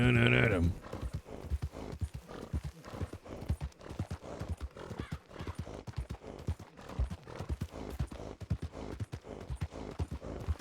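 Steady, rapid clip-clop of horse hooves at a brisk trot throughout, loud and close, with a brief tonal sound at the very start, from the video game Red Dead Redemption 2.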